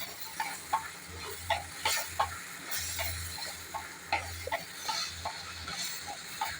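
Potatoes and brinjal sauté in a pan, with a soft, steady sizzle and hiss under repeated rhythmic scraping and tapping as a utensil stirs them, close and fairly quiet.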